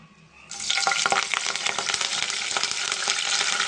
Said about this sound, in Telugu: కరివేపాకు ఫ్రై అయింది కదండి